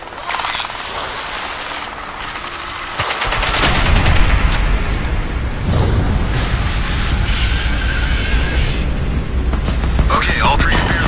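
Loud, sustained bursts of heavy Reaper cannon fire in Crysis 3, with booming impacts and a dense, rumbling roar that never lets up.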